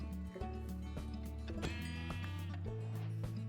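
Sheep bleats in Minecraft Dungeons, heard against steady tonal game music with layered harmonic notes, the animal calls short and close.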